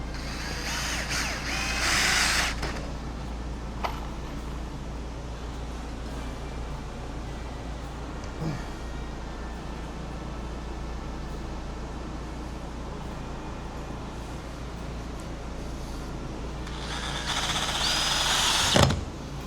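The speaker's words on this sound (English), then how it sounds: "drill in the rest of these screws." A power drill driving screws into a boat's rub rail whirs in short bursts near the start and again near the end, with a low steady hum and faint clicks in between.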